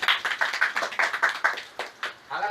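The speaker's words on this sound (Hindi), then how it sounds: "जोरदार तालियां।" Audience applause, loud and sustained, with dense rapid claps throughout that briefly thin out near the end before swelling again.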